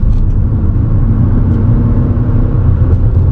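A car engine pulling hard in gear at high revs, a steady, loud, close rumbling drone with no clear gear changes in this short stretch.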